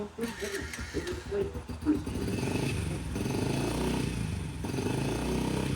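A Yamaha TTR50 dirt bike with a carburetor problem idles on choke while warming up, sputtering and uneven at first, then settling into a steadier low putter, close by.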